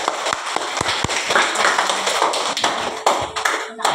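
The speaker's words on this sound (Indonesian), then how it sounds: "Tepuk tangan untuk kalian semua" Students applaud in a classroom, a dense burst of many hands clapping close by with a few sharp, louder claps standing out, no voices.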